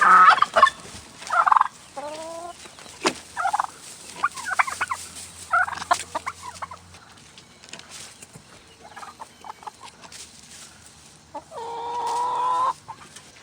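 Chickens and turkeys released from a deep-bedded coop, with turkeys gobbling in loud bursts and hens clucking and squawking between them, close by, with bumps and rustling in the background.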